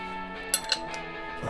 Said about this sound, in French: On démonte le bouchon.